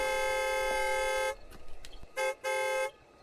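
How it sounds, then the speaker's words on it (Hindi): One long, steady car horn blast, then a pause with faint noise, followed by two shorter honks in quick succession. "उसे अपने पीछे से एक हॉर्न की आवाज सुनाई दी।"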